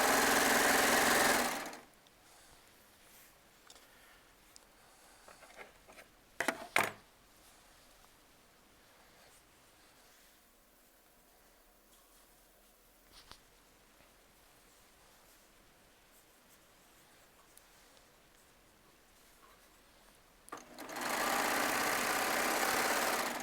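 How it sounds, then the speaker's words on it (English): A Baby Lock serger runs fast and loud for a couple of seconds, falls quiet through a stretch of soft handling and clicks, then whirs up again near the end. "And we're going to start serging."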